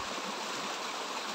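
Steady rushing water flows at a pond, a continuous broadband wash that stays even and close throughout with no voices.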